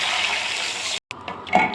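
Water running and pouring into a cooking pot with browned rice and onion, a steady rushing stream that cuts off abruptly, followed by a few light splashes and clinks.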